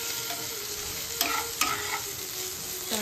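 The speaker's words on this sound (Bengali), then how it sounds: "আমি এখানে ডালি আর সবজিটা বসিয়ে দিয়েছি, যে সবজি ভাজা হচ্ছে।" Vegetables frying in a pan give a close, steady sizzle, with a couple of sharp scrapes of a spoon stirring them and no talking.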